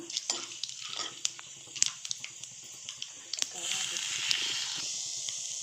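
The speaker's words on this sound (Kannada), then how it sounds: "ನೋಡಿ, ನಾನು ಇದಕ್ಕೆ ಹಸಿಮೆಣಸಿನ್ಕಾಯಿ ಸೇರಿಸ್ತಾ ಇದ್ದೀನಿ." Green chillies dropped into hot oil with frying chana dal give a sharp hiss and sizzle that swells toward the end, with stirring scrapes along the way.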